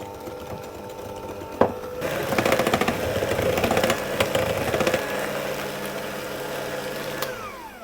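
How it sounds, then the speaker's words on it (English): An electric whisk beats egg into lemon drizzle cake batter in a bowl, a steady close mechanical whir that grows louder and rattles against the bowl, with a sharp knock near the start. "I'm going to do that a little bit at a time, whisking all the while"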